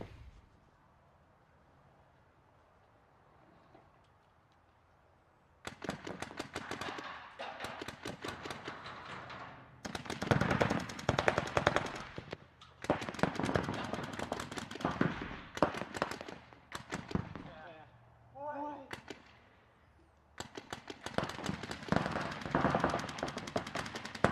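Rapid bursts of paintball marker shots during a head-to-head paintball match between two players, loud volleys of quick pops coming in several stretches, separated by brief quieter gaps.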